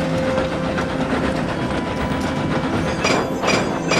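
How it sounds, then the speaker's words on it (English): A train rumbles past close by, steady engine drone with rhythmic clattering from the wheels, growing busier toward the end. "It was just a train"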